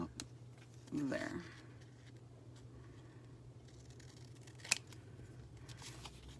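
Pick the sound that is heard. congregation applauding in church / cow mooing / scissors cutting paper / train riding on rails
scissors cutting paper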